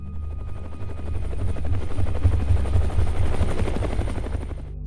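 A military helicopter roars close by, its rotor thumping in a fast, steady pulse under a heavy low rumble that holds loud throughout.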